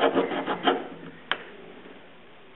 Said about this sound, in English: Sawing works too.